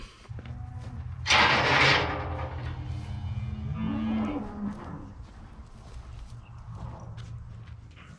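Steers and heifers in a pen during sorting, with a loud nearby moo, shuffling hooves and low rustling movement, and occasional faint voices.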